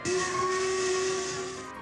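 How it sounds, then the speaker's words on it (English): A single long steam whistle blast, loud and close, sustained with a hissy breathy edge before tapering off at the end. "Alfred came racing through the station with his whistle blowing long and loud"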